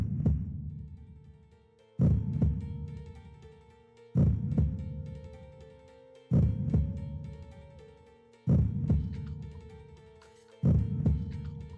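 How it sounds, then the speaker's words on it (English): Slow, heavy heartbeat thuds from the visual novel game Lamento: Beyond the Void repeat about every two seconds, six booming pulses, each fading out over a sustained ringing hum. "His heart beat painfully."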